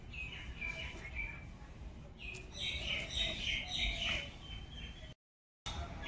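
Small birds chirp nearby in a home kitchen setting, a run of bright, quick tweets and short trills repeating over low room noise, with one brief dropout near the end.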